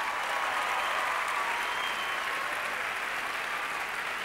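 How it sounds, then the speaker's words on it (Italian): A studio audience applauds at the Jubil Music show, a steady, dense wash of clapping that holds evenly throughout with no voices over it. "un grande applauso, questo è il calore di Jubil Music."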